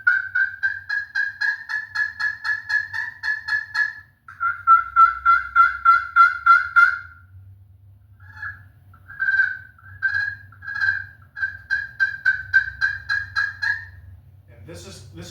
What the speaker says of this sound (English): take this little thing here, this little stick here, and just rub it around like this